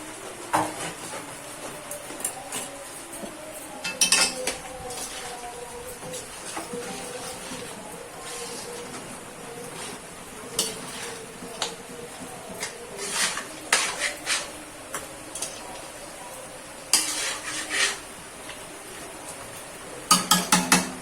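Boiled mutton stir-fried with chilli powder, turmeric and spices in a metal pot, a low sizzle under repeated clanks and scrapes of a spoon against the pot, close and irregular.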